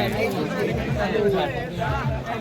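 Busy crowd chatter with overlapping voices close by at a hilltop goddess temple, a constant murmur of many people talking at once.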